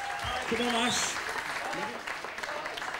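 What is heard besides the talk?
audience applause for the barman Ashley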